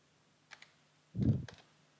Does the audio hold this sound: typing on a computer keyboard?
yes